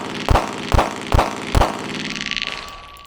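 A Glock G43X pistol loaded with hollow point rounds gives a quick, evenly spaced series of sharp, loud metallic reports, followed by a faint lingering ring.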